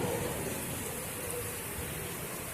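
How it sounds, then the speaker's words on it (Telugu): Steady heavy rain falling in Hyderabad, a constant even hiss with no voices. "వాన అయితే వచ్చేసింది"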